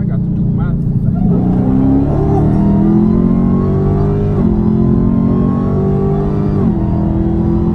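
A fast car's engine revs and rumbles loudly up close, the pitch climbing and dropping through several gear changes as it accelerates, with people talking over it.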